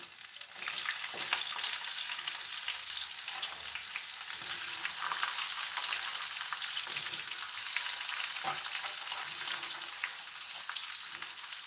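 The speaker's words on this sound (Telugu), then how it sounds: "గోల్డెన్ బ్రౌన్ కలర్ అయ్యాక మనం ఆనియన్స్ వేసేసుకుందాం" Onions frying in a pan for a Telugu dish of leftover vada batter and rice, a steady loud sizzle throughout with faint stirring scrapes.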